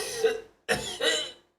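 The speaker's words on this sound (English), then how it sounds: "My throat is grown sore, and I cough day and night." A sick character in the video game Astrologaster gives a few harsh, throaty coughs close up, in short bursts separated by a brief pause.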